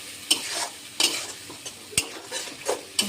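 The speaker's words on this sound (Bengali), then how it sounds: "দেখো কষায় নিচ্ছি।" Spices with turmeric and salt sautéing in a pan, a soft sizzle under repeated sharp scrapes and taps of a spoon against the pan, roughly one every half second.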